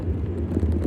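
A steady low rumble of nearby road traffic from passing cars fills the short moment, with no talking.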